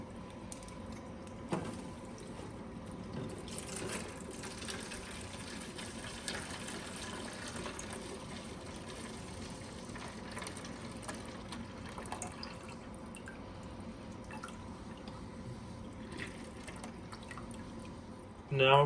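Water runs steadily while a reef tank protein skimmer's collection compartment is rinsed out, a continuous splashing flow with faint drips lasting throughout and no one talking.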